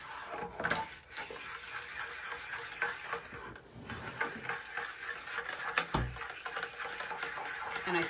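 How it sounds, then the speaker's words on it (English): A whisk stirs lemon curd sweetened with allulose in a bowl, giving a steady, busy scraping and clinking texture that continues throughout at moderate level, with no talk. "I want this whisk to just keep whisking and blending and blending and blending this curd."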